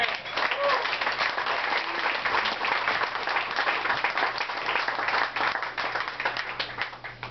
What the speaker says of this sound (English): Let's have a round of applause for the rest of the cats, ladies and gentlemen.